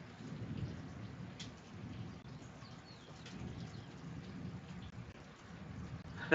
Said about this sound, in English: You guys can hear that thunder outside.